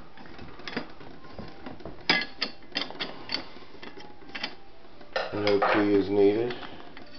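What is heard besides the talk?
1960s Oak Acorn gumball capsule vending machine mechanism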